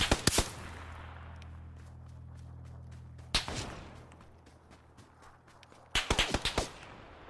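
Gunshots in the PUBG video game: a few sharp cracks at the start, a single shot near the middle, then a quick burst of five or six shots near the end, moderately close, with quiet pauses between.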